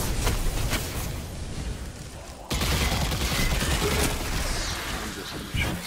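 Rapid gunfire and blasts from a Destiny 2 firefight against Fallen enemies, dense bursts that surge sharply after a brief lull, with a player talking over the shooting.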